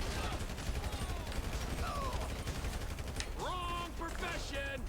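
Bursts of rapid submachine gun fire in GTA V crackle steadily against a busy game soundscape, with a person speaking over the shots.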